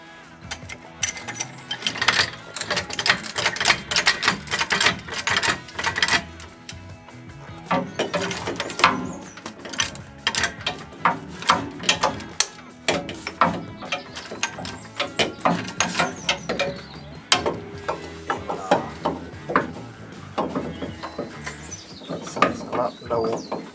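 A ratchet works on fitting a Kayaba shock absorber to a 1968 Camaro's suspension. Irregular bursts of clicking pawl action and metallic clanks come up close, with pauses and handling noises between them.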